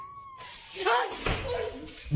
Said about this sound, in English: ¿Tú no eres un gato?